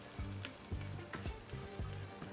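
Chopped garlic sizzles and crackles in hot oil in a pan for fried rice, a steady close frying hiss with a few scraping stirs and no voices.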